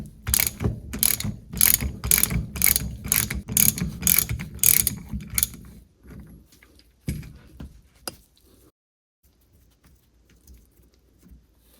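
Ratchet clicking steadily as a nut is backed off a Mercruiser upper unit clamped in a vise, a quick run of crisp, close pawl clicks that stops, followed by a few faint knocks and quiet.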